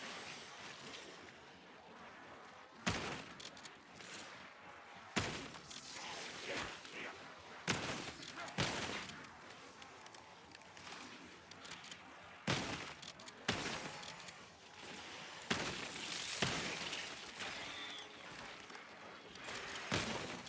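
Weapon fire in the Call of Duty zombies map Citadelle Des Morts comes in separate loud bursts every few seconds over a steady background din of game noise.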